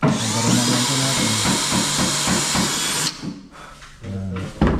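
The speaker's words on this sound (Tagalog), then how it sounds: "Barena lang ito natin." A power drill bores through a coated panel at a building project, its steady high whine running for about three seconds with rhythmic pulsing, then stopping into quieter handling clatter and a brief renewed burst.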